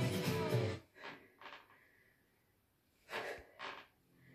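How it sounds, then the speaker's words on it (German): Heavy breathing during an abdominal workout: a loud puff of breath, then several short, sharp exhalations and snorting gasps spaced apart, close to the mic, with quiet pauses between them. "Ich schnaufe auch schon"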